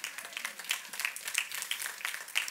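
Applause from a church congregation, a dense patter of many hands clapping throughout with no pause, moderately loud and steady.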